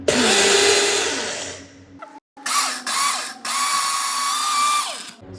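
Mixer grinder whirring loudly as it grinds masala spices at night, a harsh motor roar that cuts off, restarts in short bursts with brief pauses, then runs on again, close and alone.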